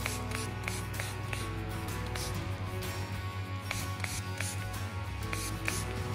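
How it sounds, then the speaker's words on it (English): Repeated short hissing sprays, several quick spritzes in an irregular rhythm over a steady low electrical hum. "I always use spray water to make it even better."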